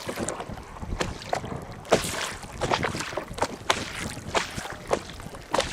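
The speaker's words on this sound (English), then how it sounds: "this small canoe will take us on another short tour of the lake" Small canoe gliding across a lake in Vietnam, paddles dipping and splashing in a regular rhythm close by, with water lapping against the hull and gusts of wind buffeting the microphone.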